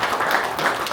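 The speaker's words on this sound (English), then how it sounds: "a round of applause for yourselves" A brief burst of dense, steady clapping from a crowd, loud and close.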